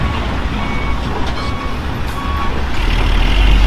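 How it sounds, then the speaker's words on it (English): A long line of dump trucks hauling soil on a toll road construction site makes a loud, steady diesel rumble, with faint intermittent reversing beeps heard through the engine noise. "good long line of trucks to carry more soil up there"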